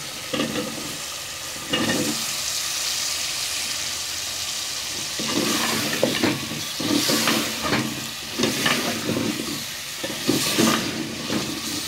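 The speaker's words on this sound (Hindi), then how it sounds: "और हम इनको तकरीबन 4 से 5 मिनट ये भी हम भून लेंगे" Potatoes fry with chicken in a pot, with a steady hiss of sizzling and bursts of stirring scrapes that grow busier toward the end, close and moderately quiet with no talk.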